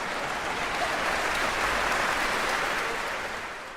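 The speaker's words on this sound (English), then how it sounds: "then the audience erupts in laughter, and then huge applause" Huge audience applause bursts out after an orchestra performance fades to silence, a dense, steady roar of clapping that swells and holds for several seconds before easing slightly at the end.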